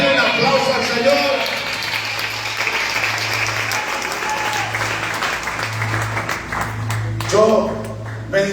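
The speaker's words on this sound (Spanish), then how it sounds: "Vamos a darle un aplauso al Señor." A church congregation applauds during a Spanish-language sermon, steady clapping from many hands filling the room while a voice speaks over it and swells near the end.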